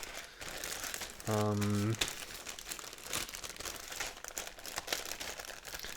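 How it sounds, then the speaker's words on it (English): A plastic bag holding model kit parts crinkles and rustles in short bursts, with a brief steady tone partway through and quiet background noise. "If I can figure out how to open the bag."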